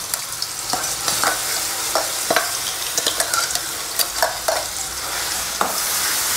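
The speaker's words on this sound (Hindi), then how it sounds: "और ये प्याज लहसुन अदरक जो है इसे लो फ्लेम पर 5 मिनट के लिए कुक होने देंगे।" Ground onion, garlic and ginger paste sizzles steadily in hot oil on a gas stove, with repeated sharp scrapes and taps of a spoon stirring the pan throughout.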